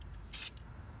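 Spray paint hisses in one brief, close burst of about a sixth of a second while coating a Mazda Miata engine bay, with quiet room tone before and after.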